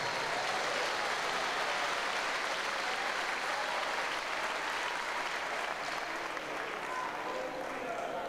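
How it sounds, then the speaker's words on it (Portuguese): A church congregation claps in dense, continuous applause that holds steady at an even level from start to finish. "Aplauda o nome do Senhor"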